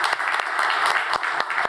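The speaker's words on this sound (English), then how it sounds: "a big round of applause for Edmunds, please." Round of applause from a conference audience after a talk, brisk and even clapping held at a steady level, with a few sharper claps standing out near the listener.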